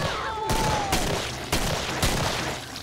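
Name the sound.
gunfire in the video game Killing Floor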